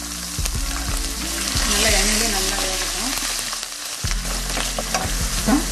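A cup of garlic cloves fries in oil with fenugreek and cumin for a neem flower kuzhambu. A close steady sizzle carries intermittent spoon scrapes and knocks on the pan, and a voice is faintly present.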